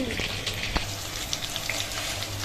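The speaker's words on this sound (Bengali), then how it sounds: "কলা কটা কিন্তু ভাজা হলো, এখনো কিন্তু টিপটিপ করছে" Banana pieces frying in oil on a weak gas flame, giving a steady close sizzle with faint crackles and a few light pops and ticks, with no voices.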